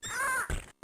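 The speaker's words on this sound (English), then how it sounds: "Why do the birds sound like that?" Crow-like caws from birds in a vintage Mac IIci video game, a short harsh tonal call followed by a brief second burst, loud and alone.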